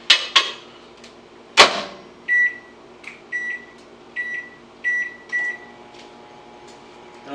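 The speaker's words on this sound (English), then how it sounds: "And into the microwave it goes for about" Microwave oven running for a reheat of about three and a half minutes, with a low steady hum and repeated short electronic beeps and clicks from the panel, fairly close.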